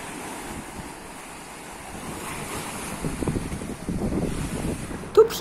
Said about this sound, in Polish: teraz zmierzamy szybko, ponieważ zaczyna się już sztuczna fala